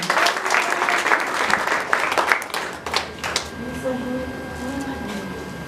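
Applause in a church service as a congregation claps for God, many hands clapping loudly before fading into a quieter room with a voice speaking.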